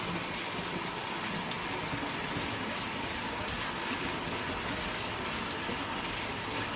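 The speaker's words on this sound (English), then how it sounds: "rinse it with cold water just for about 2 minutes" Cold tap water pours steadily over quinoa in a small sieve, a continuous even rushing gush with no pauses, heard alone at moderate level.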